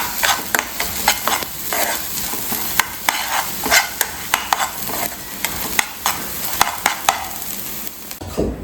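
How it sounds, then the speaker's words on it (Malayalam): Dry urad dal rattling and scraping in a hot pan as it is dry-roasted and stirred, with repeated sharp clinks of a utensil against the metal. "വറുത്തെടുക്കാം."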